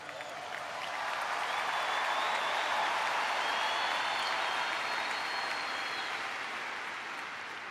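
A large crowd applauding at a memorial service, with dense, sustained clapping that swells early and holds as a broad, rain-like wash of sound.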